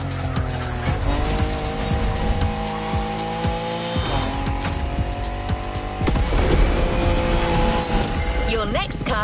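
Cars race through coastal California and countryside in a video game, engines roaring steadily at high revs with repeated gear shifts and tire squeal, loud and continuous under a narrator's voice.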